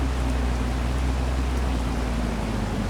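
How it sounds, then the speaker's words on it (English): Steady rain falls outdoors in a continuous, even hiss that stays loud and unbroken throughout, with no voices or other distinct sounds over it. "It's raining outside like it is in the game"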